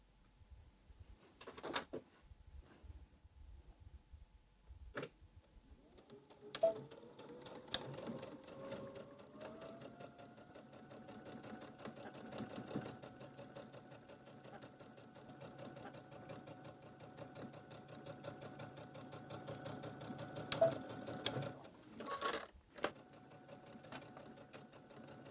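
A sewing machine stitching the borders of a quilted star pillow runs in a steady, continuous whir after a few clicks and handling sounds, holding near and even for most of the stretch before stopping with a couple of sharp knocks.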